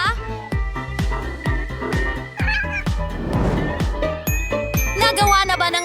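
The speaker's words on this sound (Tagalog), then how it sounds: "At narito ang aking alagang pusa!" A pet cat meows amid a busy, loud stretch of music and rhythmic pulses, a child-like voice and tinkling sounds, all inside a colorful house, with the cat's calls partly blended into the steady thumping beat.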